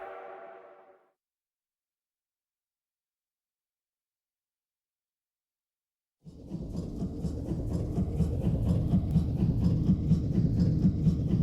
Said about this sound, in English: At least we have a neat train ride.